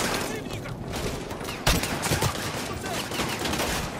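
Rapid gunfire rattles in a Call of Duty campaign battle, a dense, loud volley punctuated by one sharp, close shot partway through.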